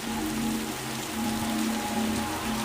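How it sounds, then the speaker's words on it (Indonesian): Heavy rain drumming on the roof of an old house at night, a dense, loud, continuous hiss of drops with a faint low hum beneath and no voices. "Malam itu hujan deras."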